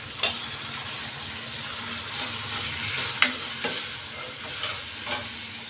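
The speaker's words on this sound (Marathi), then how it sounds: "आता थोडी डाळ टाकून घेऊ त्यामध्ये" Lentils (dal) are added to a hot pan and stirred for dal bati. A steady sizzle of frying runs throughout, broken by occasional scrapes and taps of the spoon, close and moderately loud, with no talking.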